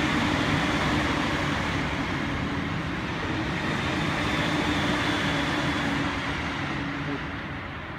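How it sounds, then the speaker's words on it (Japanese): A train rumbles steadily past nearby, a loud continuous roar of wheels and engine that holds level and then slowly fades toward the end. "あー電車が来た、ちょうど"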